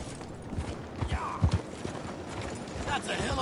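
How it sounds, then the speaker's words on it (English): Horse hooves clip-clop in Red Dead Redemption 2, a steady rhythm of nearby hoofbeats on the ground under people talking. "Remember to rest that horse sometimes."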